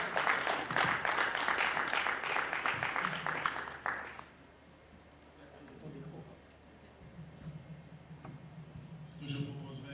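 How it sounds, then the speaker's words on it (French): Conference attendees at the closing session of the Africa SME Champions Forum 2025 clap in a lively burst for about four seconds. The applause then stops abruptly, and a speaker begins talking quietly. "Je suis certain que vous allez applaudir à cette résolution."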